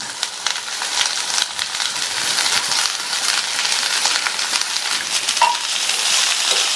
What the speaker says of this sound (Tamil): அவரைக்காய் கேரட் ரெண்டையுமே ஒரே 1 நிமிஷத்துக்கு மட்டும் நல்லா வதக்கி விட்டுக்கங்க